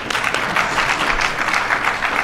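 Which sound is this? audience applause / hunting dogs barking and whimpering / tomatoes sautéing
audience applause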